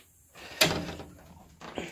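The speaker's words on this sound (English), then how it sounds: "closing the door." A door swings shut with a firm thud, followed by a softer knock a second later; close and fairly quiet, no voices.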